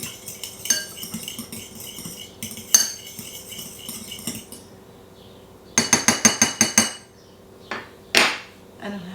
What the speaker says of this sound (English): I'm going to put a little bit of salt and some sliced garlic. Give it a little stir.